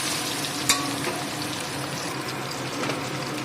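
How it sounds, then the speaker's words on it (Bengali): An egg fries in oil seasoned with turmeric and salt, giving a steady close sizzle and crackle with one brief sharp clink partway through. "তেলের ওপরে হলুদ আর নুন দিয়ে দিলে ডিমের কালারটা খুব সুন্দর হয়"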